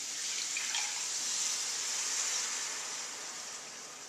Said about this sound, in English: And then I'm going to add some veggie broth.